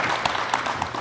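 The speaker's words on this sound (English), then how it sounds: "Get some applause." Applause from an audience at a faith-based marriage counseling session, a short burst of scattered clapping that sounds moderately close, with a voice faintly underneath.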